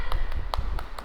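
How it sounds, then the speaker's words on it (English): Children in a play group class clap their hands in a steady rhythm, five sharp claps evenly spaced within a second, bright and close. "Clap, clap, clap."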